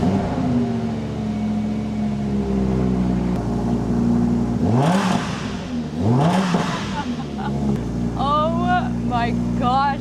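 A Lamborghini Huracan supercar with a seven-speed dual-clutch gearbox idles loudly, then revs sharply twice in quick rising bursts before climbing to a high-pitched wail; a voice speaks over part of it.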